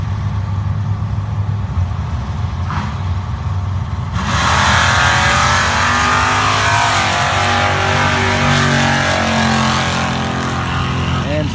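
Chevy and Dodge drag cars launch and race at a night drag strip in Kinston, North Carolina, a loud roaring engine surge bursting in after a few seconds of quieter idling and crowd background, then sustaining a broad, close roar.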